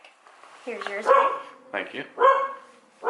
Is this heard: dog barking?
yes